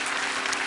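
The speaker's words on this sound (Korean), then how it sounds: "우리 큰 박수로 수고한 우리 직원들과 교역자들을 축복해" A church congregation breaks into a dense, steady wash of applause that fills the whole moment at full volume, with no gaps, to honour staff and ministers.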